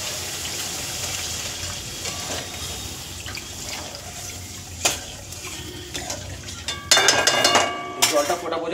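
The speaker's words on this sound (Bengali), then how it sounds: "জল দিয়ে দেবো।" Water goes into a pan of cooking curry whose oil has separated, starting as a faint simmering hiss with scattered clinks, then building into a louder splashing gush with sharp sizzling bursts near the end.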